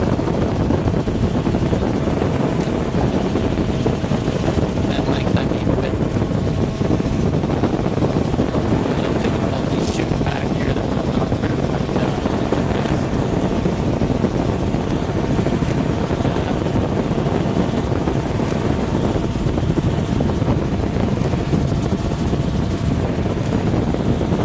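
Steady, loud rotor and engine roar of a helicopter heard from inside or close by, constant throughout with wind buffeting.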